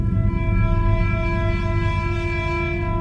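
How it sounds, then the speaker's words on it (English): Ambient, mood-setting film score tones from a soundtrack, steady sustained drones with layered pitches holding evenly and loud throughout, no melody standing out. "So it's just these ambient kind of sounds, Mood setting tones."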